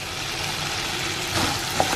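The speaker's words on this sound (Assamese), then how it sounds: "এই বুট তিয়াই থৈছিলোঁ সেই বুটৰ ভাজিটো বনাই দিছোঁ" Soaked chickpeas fry in a pan with a steady soft sizzle and light hiss, close by, with a small clink of stirring near the end.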